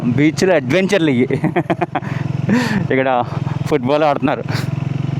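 A motorbike rides along sandy Chirala Beach, and its low, steady engine drone runs beneath loud, excited talking from the rider throughout.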